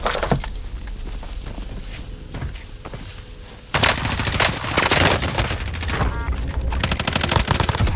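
Rapid automatic gunfire in Call of Duty Warzone, loud and close, with bursts of shots over game noise that grows denser and harsher in the second half.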